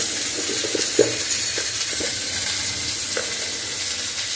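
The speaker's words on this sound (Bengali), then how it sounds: "নুনটা দিলে পেঁয়াজটা তাড়াতাড়ি ভাজা হয়ে যায়" Salted onions sizzle and fry steadily in a pan for a tengra fish curry, a constant hissing crackle with a few soft clinks from stirring, no speech.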